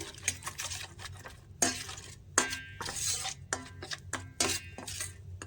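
Kashmiri chilli powder, sugar and spices being hand-mixed into flat beans (sim) in a pot, giving repeated close squelching and scraping bursts with occasional clinks of metal.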